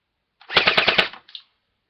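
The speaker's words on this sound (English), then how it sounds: "if you want to know what it sounds like on full automatic" A TACR71 airsoft machine gun fires a short full-automatic burst of about six rapid, evenly spaced cracks, loud and close, followed by a softer single click as it stops, with silence around it.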